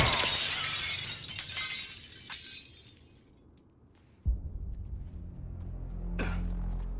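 Glass shatters loudly at the very start in the Suicide Squad: Kill the Justice League game, with the tinkling crash fading over a few seconds. A dull thump follows later, then a brief sharp accent near the end.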